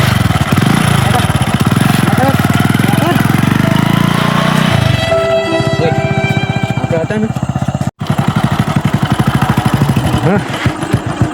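A motorcycle engine chugs loudly and close by, revving then settling into an uneven idle, with a brief cut near the end and talk over it.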